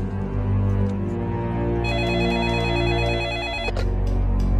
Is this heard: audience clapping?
no